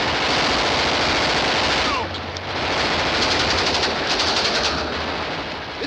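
Dense, continuous gunfire and shouting from an old King of the Texas Rangers western serial, a loud sustained burst of shots that dips briefly before resuming, with voices mixed into the din.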